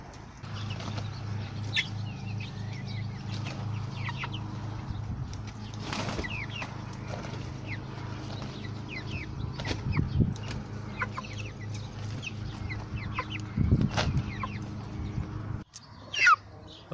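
White broiler chickens around six weeks old cluck in a covered coop, with frequent short overlapping clucks and calls over a steady low hum, some birds close and loud, others fainter in the flock.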